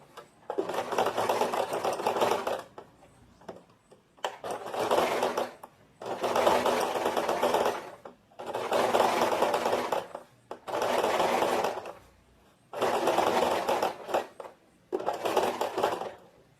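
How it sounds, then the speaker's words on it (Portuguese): A sewing machine topstitches a trouser pocket seam in seven loud, close bursts of rapid stitching, each lasting a second or two and separated by brief pauses. "Vou pegar, então, a margem de costura, jogar ela pro lado do bolso e fazer um pesponto bem rente"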